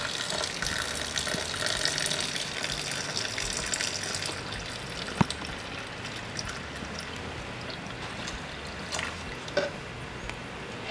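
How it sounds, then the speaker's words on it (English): A small electric fountain pump runs water through a jungle-themed fingerboard park, giving a steady soft trickle and splash with a couple of sharp clicks, no talking. "I'm gonna plug it in, plug in the pump"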